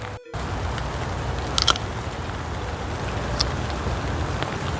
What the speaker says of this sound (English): Trying to hide from the rain?